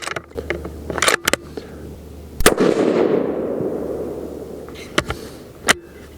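A Tikka T3X Super Varmint rifle chambered in .223 Remington fires a single loud, sharp shot that echoes and decays over a few seconds, with scattered mechanical clicks and knocks around it.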